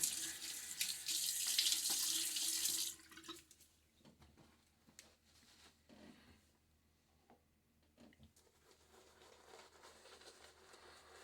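A tap runs loudly for a few seconds, then shuts off, leaving faint drips, splashes and quiet handling sounds nearby.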